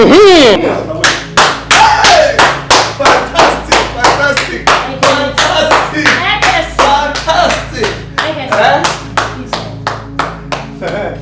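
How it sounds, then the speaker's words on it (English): Rhythmic hand clapping, roughly two claps per second, loud and close throughout, with a voice heard alongside at the start. "Can't you see I'm clapping for him?"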